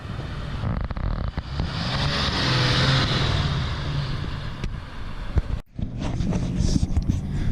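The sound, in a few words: Ford Power Stroke diesel truck turbo passing by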